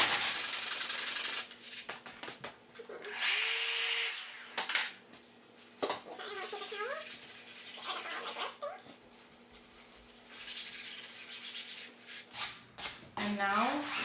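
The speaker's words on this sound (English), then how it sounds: "You just take the sandpaper again and we want to sand that down." Sandpaper scrubs back and forth over an old painting canvas to flatten its surface, close and uneven, in several rubbing passes with pauses and faint tonal squeaks, with no talking.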